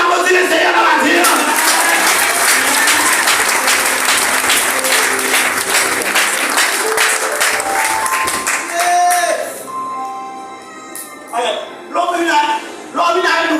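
A church congregation applauds the Lord at a morning service, dense loud clapping that fills most of the stretch before thinning out, with voices talking and calling out as it fades.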